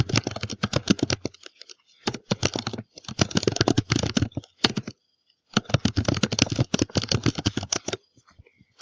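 A computer keyboard clatters with rapid, close keystrokes in several bursts separated by short pauses, with no talking.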